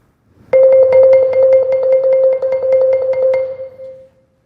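A rapid mallet roll on a single keyboard bar rings loud and steady for about three seconds, strokes audibly uneven because one mallet strikes near the node, then the tone decays alone.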